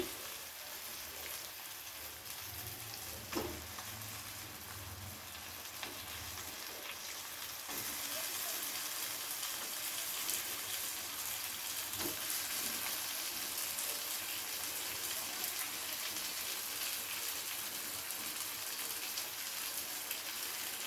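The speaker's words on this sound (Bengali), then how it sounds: "ভেজে রাখা ফুলকপিগুলো আলু সিম সমস্ত কিছুর সাথে খুব ভালো করে একটু দু মিনিট কষিয়ে নেব" Cauliflower, potatoes and flat beans fry in a pan with oil, a continuous dense sizzle and crackle that grows fuller partway through, steady and close with no talking.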